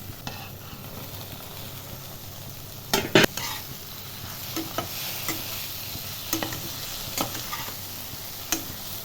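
Fried okra being stirred into a cooked spice masala in a pan, with a steady low sizzle and a few sharp scraping and clinking strokes from the spoon.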